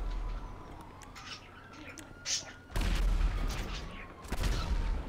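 Gunshots in the video game GTA 5, a few sharp bangs and a heavier boom cutting through a constant engine-like drone, fairly close and loud with no talk over them.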